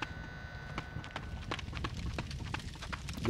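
Rapid sprinting footsteps in a Unity game with Wwise-driven audio, a quick run of crisp, evenly spaced steps close up, with a steady background bed underneath.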